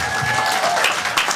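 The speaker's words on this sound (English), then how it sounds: "I just want to give a clap for Dr. Gabo." An audience at a symposium breaks into a brief, close round of applause with some crowd murmur.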